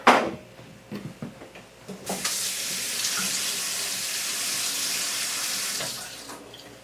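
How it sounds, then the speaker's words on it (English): Capers rinsed in a strainer under a running kitchen tap, a steady close hiss of flowing water lasting several seconds after a few clinks and knocks at the start, then tapering off. "run them under the water to take all that salt off."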